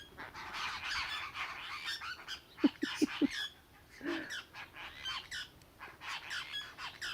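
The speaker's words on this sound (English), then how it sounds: "Oh, here comes Crow." A crow squawks nearby, a few harsh quick calls in a short burst, then more caws scattered through a busy outdoor backdrop of other birds chirping.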